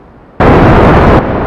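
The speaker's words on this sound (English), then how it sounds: "that was one explosion, but it doesn't really matter" A rocket explodes in the video game Kerbal Space Program, a sudden loud blast that bursts in after a quiet moment, sustains a rumbling roar, briefly dips, then surges again.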